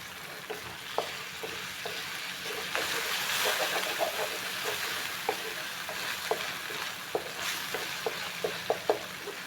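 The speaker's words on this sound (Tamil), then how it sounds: "2 தக்காளியை நைஸாக நறுக்கி வச்சு அதையும் இதில் சேர்த்துக்கலாம்." Two small, finely chopped tomatoes fry in a pan with a constant soft sizzle, while a spoon stirs and scrapes, making scattered sharp clicks and knocks against the metal.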